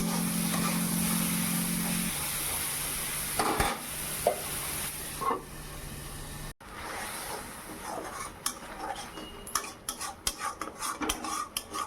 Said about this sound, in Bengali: এখন এই যে পটলগুলো দিয়ে ভালো করে ভেজে লঙ্কা লবণ হলুদ দিয়ে ভাজা ভাজা করে নেব